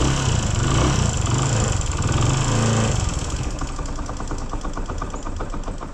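Motorcycle engine idling just after a choke-assisted cold start in sub-zero temperatures at Bum La Pass on the India–China border, Arunachal Pradesh: a loud, close, rough steady putter that settles into regular rhythmic firing pulses.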